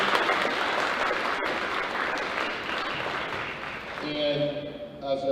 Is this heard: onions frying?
no